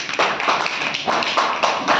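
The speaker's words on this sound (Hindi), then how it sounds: "चलो ताली बजाओ इसके लिए" Children in a classroom clap together, a dense, steady patter of small hands at close range in a few rhythmic surges, with no talking over it.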